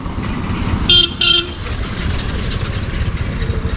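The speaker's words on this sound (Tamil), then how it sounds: "ஒரு வண்டி வருது, bolero." A Mahindra Bolero on a narrow Nilgiris mountain road sounds two short horn toots over a steady engine rumble, with a second vehicle's engine noise continuing after the honks.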